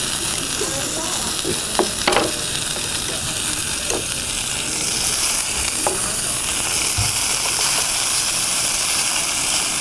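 Chicken pieces, including halved breasts, fry in a restaurant kitchen pan with a steady broadband sizzle throughout, a few brief clinks and stirring noises over it and faint talk in the background.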